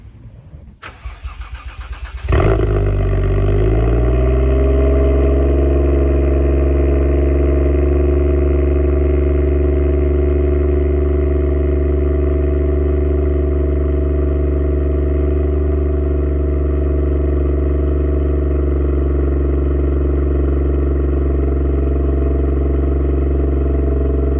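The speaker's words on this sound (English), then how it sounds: "I'll get it started up so you guys can hear the exhaust, hear how it starts, hear it warm up" A Toyota Chaser JZX100 cranks briefly and catches, then settles into a loud, steady, close-up idle with its exhaust droning evenly as it warms up.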